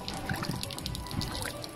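Iron-laden water pours and trickles into an iron removal plant clarifier, a close, steady splashing flow with small gurgles and no talk.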